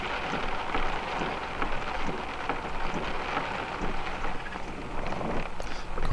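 Steady rain pattering on a motorhome stopped on the road, a thick continuous wash of drops with slight swells in loudness and no talking.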